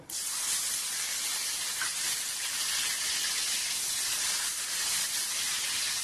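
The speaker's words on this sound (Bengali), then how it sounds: "ঘিটা গরম হয়ে গেলে আমি এক এক করে ড্রাই ফ্রুটসগুলো ভেজে তুলে নেবো।" Raisins frying in hot ghee for Basanti pulao give a steady, dense hiss and sizzle that holds evenly throughout, close and continuous with no talking.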